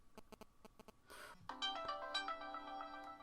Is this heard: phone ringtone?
yes